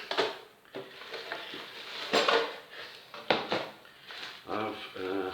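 Metal pieces of a camping cook kit clink and rattle as they are handled up close, giving sharp scattered knocks between spoken words.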